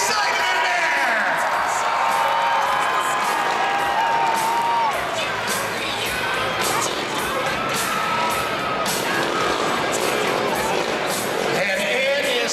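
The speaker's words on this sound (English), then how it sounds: "Give them a big round of applause here to get them going" A Pittsburgh crowd roars with cheering, whoops and applause at a family stunt show, the dense wash of voices holding steady and loud for the full stretch, with shouts rising over it.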